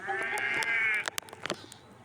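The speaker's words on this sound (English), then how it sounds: "The noisy sheep were spoiling his peace and quiet" A flock of sheep that has strayed onto a railway line through a broken fence bleats in one long, wavering cry, followed by scattered clicks and knocks.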